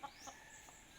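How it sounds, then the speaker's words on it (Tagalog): Native chickens cluck faintly in a rural provincial yard, giving a few soft, scattered clucks at a distance with no talking. "May mga manok, native chicken."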